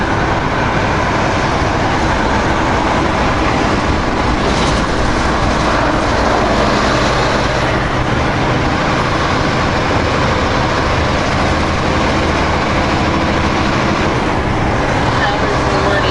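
A Peterbilt truck rolls down the road in a loud, steady cab rumble of engine and road noise that never lets up, with a voice speaking over it.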